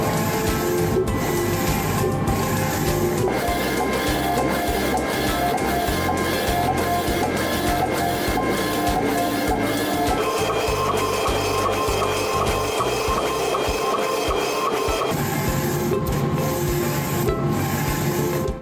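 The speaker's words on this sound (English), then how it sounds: "With the machine itself today, we're going to print on some lovely little trophies." A UV DTF printer prints onto small trophies with a continuous loud mechanical whir and rumble. Its carriage motion shifts pitch and rhythm in stages over a steady hum, and no one speaks.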